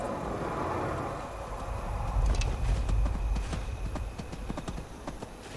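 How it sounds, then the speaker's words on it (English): Horse hooves clip-clop in the video game Skyrim, a steady rhythmic run of sharp hoof strikes on hard ground growing louder as the horse nears, over a low ambient rumble. "Now I hear a horse."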